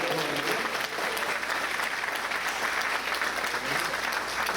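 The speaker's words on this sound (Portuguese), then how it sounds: "Você pode aplaudir ao Senhor nessa noite." A church congregation applauds during an evening service, sustained even clapping from a large crowd at a steady level throughout, with no speech over it.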